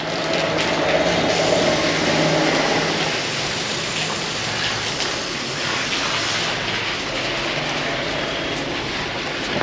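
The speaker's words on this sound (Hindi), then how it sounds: "क्या वेदर है, सुबह से बारिश बारिश बारिश बारिश" Steady rainfall that has been coming down since morning, a dense continuous hiss close by with a low rumbling undertone and no talk.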